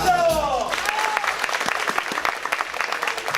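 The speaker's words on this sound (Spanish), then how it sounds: "¡Aplausos!" Studio audience applause on a Spanish-language television variety program, lively clapping that follows a host's voice and continues with scattered louder claps over several seconds.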